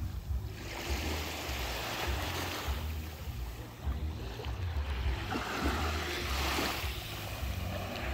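Sea waves wash onto the shore on an evening seaside, a steady broadband surf rush with gentle swells rising and falling, continuous and fairly close, no voices.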